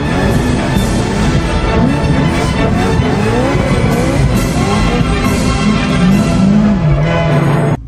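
A car drifts in tight donuts, its engine droning steadily under a continuous, loud tire skid that rises and falls in pitch as the car circles, with no voices.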